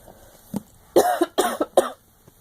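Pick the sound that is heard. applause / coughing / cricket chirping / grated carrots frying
coughing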